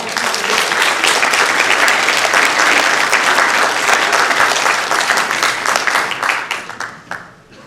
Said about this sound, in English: A round of applause for California.